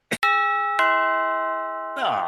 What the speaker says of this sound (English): We'll go to where they record and ring the doorbell, right?